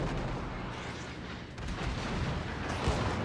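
Naval gunfire from warships in World of Warships, with HMS Emerald among the ships: a dense, sustained rumble of distant cannon fire and booms, steady throughout with no voices.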